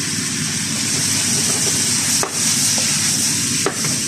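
Roughly chopped onion goes into a pan of sautéing bacon, rosemary and rooster potatoes, and a steady hiss of frying follows. Two brief knocks from a utensil sound close by.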